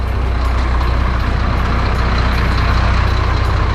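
Electronic 1620 truck engine roaring loudly, a continuous heavy low-pitched drone with strong rumble and steady intensity, close and dominant throughout.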